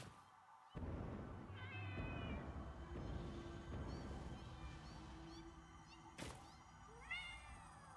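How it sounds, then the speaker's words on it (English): A cat in Minecraft meowing angrily, several drawn-out yowls and meows over a low, steady ambient hum, with a sharp click partway through. "Kitty sounds angry."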